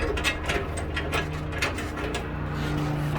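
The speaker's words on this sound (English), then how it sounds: "using a nut and a wrench, or a ratchet wrench, or a normal wrench, whichever you prefer or whichever you've got available, I'm just going to tighten all of them" Ratchet wrench tightening nuts on a truck fire extinguisher mount in a load bin, giving quiet, close, irregular clicking bursts over a low background hum.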